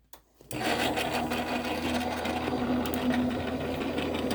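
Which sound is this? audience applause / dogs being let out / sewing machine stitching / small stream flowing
sewing machine stitching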